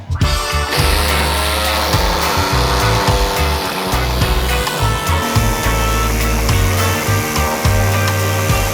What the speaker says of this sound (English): So this was an air saw I got, it's a Blackridge one.